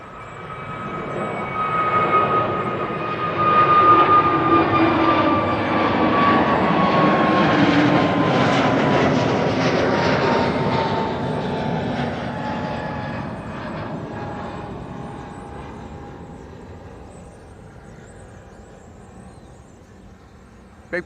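An EasyJet Airbus A320neo at Amsterdam Schiphol roars past in the open air, its engine tone swelling to a broad peak and then fading slowly into the distance.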